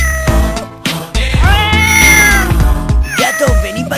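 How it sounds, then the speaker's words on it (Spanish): A cat meows loudly and repeatedly during a Carnaval 2009 event in Navalmoral de la Mata, with several drawn-out, wavering cries close by and no talk in between. "Gato, vení pa' aquí."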